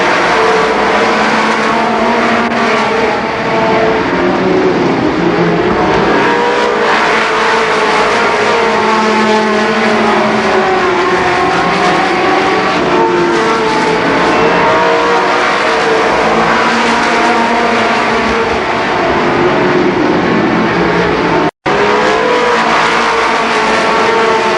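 Race cars roar around Columbus Motor Speedway at the 1990 Nuckles Memorial, engines blaring loud and continuous in a dense pack, with layered revving and shifting pitches as cars battle for the lead; one abrupt momentary dropout near the end.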